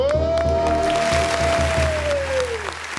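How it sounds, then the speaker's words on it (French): A studio audience applauds a guest on a television show, with clapping under a loud sustained musical tone that fades after a few seconds. "Je vous demande déjà de l'applaudir très fort."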